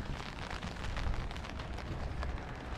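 Steady soft patter of light drizzling rain falling on a surface in a forest village, an even broadband hiss with no voices, fairly close and constant throughout.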